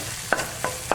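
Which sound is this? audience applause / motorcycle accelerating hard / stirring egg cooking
stirring egg cooking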